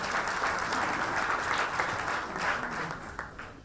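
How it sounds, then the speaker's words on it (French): An audience at an awards ceremony gives a sustained round of applause after a speech, steady dense clapping in a hall that thins out toward the end. "Je pense qu'on peut le remercier en faisant un applaudissement pour ce message de gratitude."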